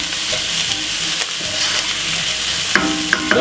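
Curry vegetables with ginger stir-fry in a hot pan, a loud, steady sizzle broken by scraping stirs and a few sharp clinks of the utensil near the end.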